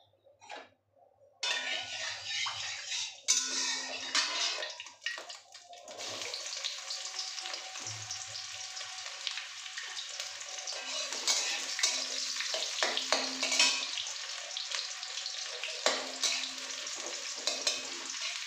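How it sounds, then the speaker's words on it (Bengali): Chopped onion dropped into hot oil where chicken is frying for an egg chicken tadka, a dense, loud sizzle with stirring scrapes and a few clatters, continuing steadily throughout. "এই তেলের মধ্যে যে আমি পেঁয়াজটা কুচিয়ে রেখেছিলাম সেই পেঁয়াজটা দিয়ে দিচ্ছি।"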